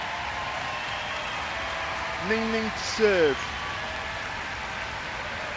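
An arena crowd at a table tennis match gives a steady wash of applause, low and continuous throughout, while a commentator talks over it.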